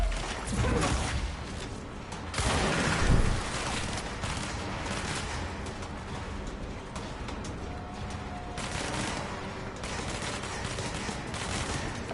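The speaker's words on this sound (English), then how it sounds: "I can literally see someone shoot at me." Gunfire in a shooter video game: dense bursts of automatic fire and rapid shots crackle almost continuously, with louder volleys near the start, set against a steady busy din of game noise.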